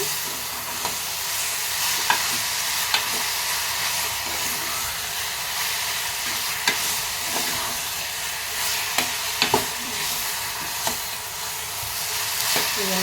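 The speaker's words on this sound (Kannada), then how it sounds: "ಅರಿಶಿನ ಹಾಕ್ತೀನಿ ಇದನ್ನು ಚೆನ್ನಾಗಿ ಫ್ರೈ ಮಾಡೋಣ" Grated beetroot with turmeric fries in a pan for palya, a constant close hiss of sizzling broken by sharp scrapes and taps of a spatula stirring at irregular intervals.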